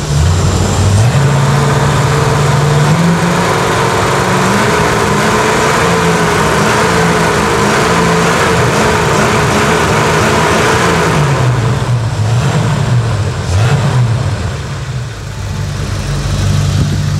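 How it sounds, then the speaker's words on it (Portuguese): A 1971 Ford Mercury Cougar V8 rumbles loud and close, revving repeatedly with deep throaty swells between rough idle stretches, its pitch rising and falling across the whole stretch. "Vamos escutar aqui o motor dando guinchão."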